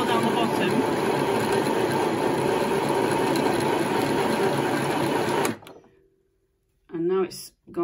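An Aldi Midi sewing machine winding a bobbin gives a fast, steady mechanical whir, loud and close, that runs evenly for about five seconds and then stops abruptly. A voice speaks briefly afterwards.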